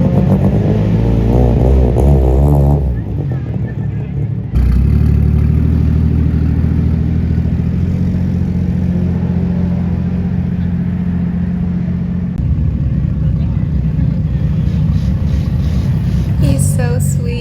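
A mini quad engine revving at Mobara Twin Circuit during a racing event, loud and close with harmonic whine rising and falling, a brief cut and dip early, then sustained throttle with a shift near the end.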